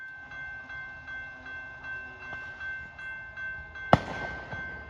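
Two trains meet at the 4th Street crossing. Their cars roll past with a regular, rhythmic clatter, a steady tone holds underneath, and one sharp bang rings out near the end. No one speaks.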